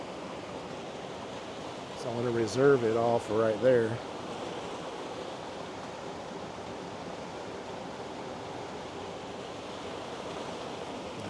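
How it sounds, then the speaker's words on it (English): Water from an East Tennessee river splashes down into a pool as a steady, soft, even rushing hiss, heard at a moderate distance throughout, with a person briefly talking over it near the start. "this water where this is splashing down into this pool"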